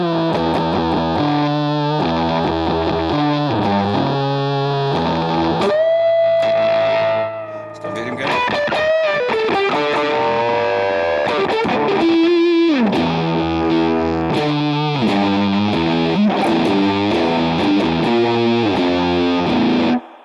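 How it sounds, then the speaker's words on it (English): Electric guitar played through a Big Muff fuzz patch on a BOSS GT-1000 in a stereo rig, thick sustained distorted chords and bending single notes ringing continuously, loud and saturated with effects. "Let's see what the big muff sounds like."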